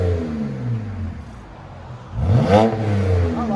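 A 2008 BMW 528i with its muffler deleted revs hard, rising sharply to a loud, raspy peak and then settling back to a deep, steady idle, close and with no talking.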